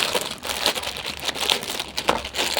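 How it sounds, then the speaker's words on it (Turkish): Plastic bags of kinetic sand torn open by hand, giving a steady stream of close crinkling and crackling with a few sharper rustles, and no talking. "Arkadaşlar bakın öncelikle poşetleri açarak başlıyoruz."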